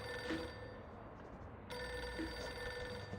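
Desk telephone ringing in an office scene of the video game Reverse: 1999, two rings in steady repeated bursts under a low room hum.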